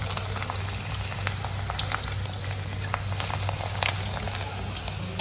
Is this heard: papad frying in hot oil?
yes